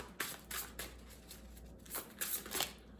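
Tarot or oracle cards shuffled by hand with a pug sitting on the lap, a run of soft riffling bursts spaced unevenly, close and fairly quiet, with no talk over them.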